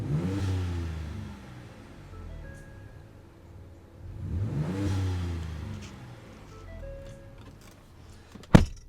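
A truck with an S&B intake, heard with the hood open, revs twice. Each rev rises and falls and ends in an intake blow-off whoosh. The engine idles between the revs, and a sharp clunk sounds at the end.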